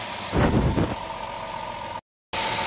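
A 2007 Chrysler Town and Country engine holds around 2,500 RPM, a steady mid-pitched drone with a brief louder surge early on, then a short cutout before the engine note returns.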